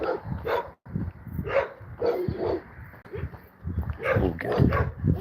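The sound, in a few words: dog barking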